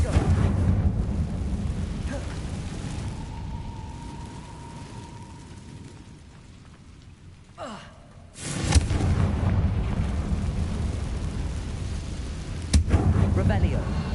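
Confringo spell explosion in the Hogwarts Legacy video game, a deep booming blast with a rumbling tail, followed by another heavy burst and sustained rumble, with a short voiced cast between.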